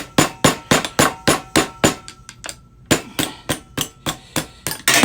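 Metal hammer blows drive a punch against the front axle of a vintage Honda CL/CB350 motorcycle, a quick series of loud, ringing clangs close by with a short lull midway before the strikes resume.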